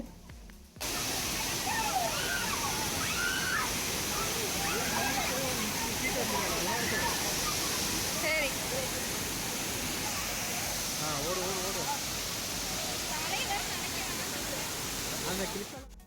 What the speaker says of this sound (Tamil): பட் தண்ணி ரொம்ப கொஞ்சம் ஃபோர்ஸாக அடிக்கிற மாதிரி எனக்கு வந்து ஃபீல் ஆச்சு